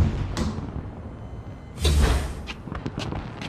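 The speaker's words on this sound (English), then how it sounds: "I bet that touch screen opens the door" A door in the video game Battlefield Hardline slides and thuds open after a touch screen is used, a short burst of mechanical motion over quiet game ambience followed by a few faint knocks.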